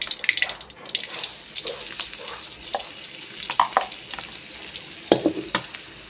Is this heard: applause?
no